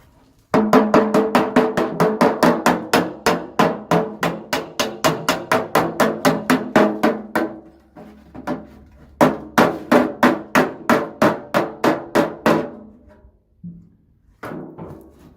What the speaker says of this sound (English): simple panel beating tools called a dolly and a hammer